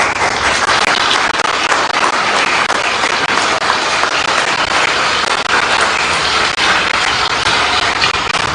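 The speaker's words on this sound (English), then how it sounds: "So let's give a round of applause for them." A crowd at a presidential party primary in Abuja bursts into loud, dense applause that holds steady and unbroken throughout, with no voices over it.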